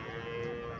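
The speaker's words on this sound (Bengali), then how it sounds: "এখানে একটা দেশি গাভী, সাইজে ছোট" A small local desi cow lets out a close, loud moo that fills the whole short moment, steady and sustained with no talking over it.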